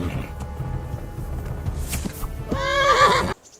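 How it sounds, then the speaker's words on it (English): A horse whinnies loudly near the end of a scene from the game Kingdom Come: Deliverance, following a stretch of low rumbling ambience and faint hoof sounds. "they've decided to give you your own horse. The dappled gray beside my stallion is yours."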